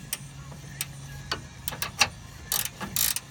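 A ratchet wrench works loose the stabilizer bar link nut on a 2006 Honda Ridgeline, giving a few close, sharp clicking bursts over a quiet background hum. Nobody speaks.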